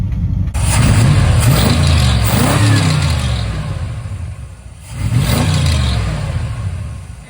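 The 360 V8 engine of a 1979 Chrysler 300 with a rebuilt Thermoquad carburetor runs loud and close, revving up and falling back twice with a deep, lumpy rumble.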